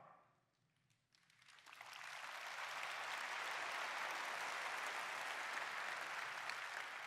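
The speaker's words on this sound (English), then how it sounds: "Only this conference do they clap for RAS." Applause from the audience at an NVIDIA GTC keynote swells quickly after a moment of quiet and holds as a dense, steady wash of clapping from a large hall crowd.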